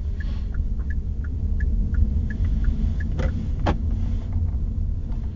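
A Hyundai Ioniq Electric car drives and coasts with a steady low road rumble and wind noise inside the cabin, broken by faint regular high ticks and a couple of brief knocks, with no talking.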